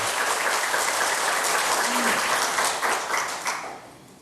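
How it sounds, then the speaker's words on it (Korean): A church congregation applauds a choir from the Bundang parish after a hymn, dense sustained clapping filling the room for about four seconds, then thinning and fading toward the end. "큰 박수, 격려의 박수 부탁합니다"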